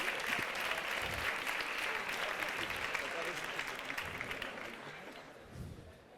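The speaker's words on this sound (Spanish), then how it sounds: "aplausos si queréis" Audience applause at a live talk event, a dense sustained burst of clapping from a full room that tapers off after several seconds.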